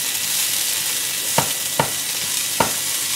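A broccoli and anchovy pasta sauce sizzles steadily in a pan, a bright hissing fry broken by three soft knocks of a utensil against the pan.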